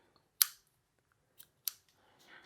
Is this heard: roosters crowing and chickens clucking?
no